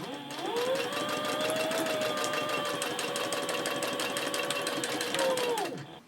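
A sewing machine stitches across a handbag in one continuous run, a close, steady rapid mechanical whir that starts, holds evenly for several seconds and winds down at the end.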